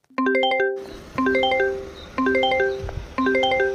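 A phone ringtone plays a bright chiming melody in three repeating bursts with short pauses between them, close and clear.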